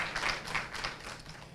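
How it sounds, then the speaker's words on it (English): An audience applauding young honorees at a Women's History celebration, a short, moderately quiet burst of many hands clapping with uneven pulses that fade slightly toward the end. "Let's have a round of applause for them."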